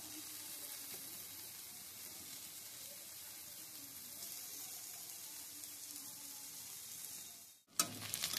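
Diced potatoes and spice paste sauté together in a pan for an eggplant dish, giving a steady close hiss of sizzling that holds evenly for several seconds before a short break and a brief clatter at the end.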